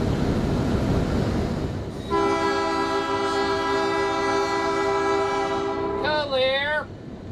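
Horn of a vintage Katy Railroad locomotive blows one long, steady, loud blast over a rumbling background, then wavers and bends in pitch before cutting off.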